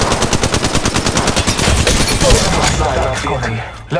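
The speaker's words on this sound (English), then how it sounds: "They're shooting at me!" Enemy gunfire in the Apex Legends Mobile game: a loud, steady stream of rapid automatic shots that thins out toward the end.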